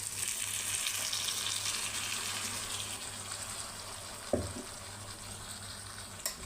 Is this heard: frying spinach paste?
yes